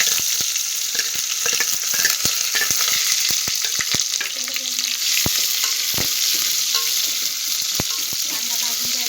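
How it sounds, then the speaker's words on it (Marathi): Chopped onion fries in a pan for a village-style chicken curry, with steady close sizzling and scattered stirring scrapes, no voices. "कांदा भाजून घ्यायचा चांगला"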